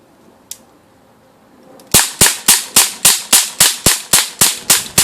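Rapid gunfire from a first-person shooter game, a loud even string of about fourteen sharp cracking shots after a quiet opening with one faint click.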